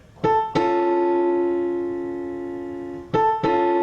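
Two struck piano notes, with an A pickup, ring out together, sustaining and slowly fading, then two more notes are played near the end.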